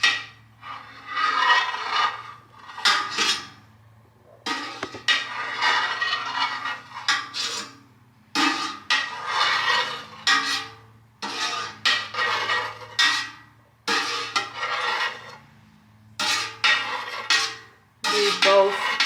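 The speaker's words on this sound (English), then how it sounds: "We are going to cut the curds. Aiming for those inch cubes." A knife slices through cheese curds in a pot to make inch cubes, a series of short, close scraping and swishing strokes in uneven bursts separated by brief pauses.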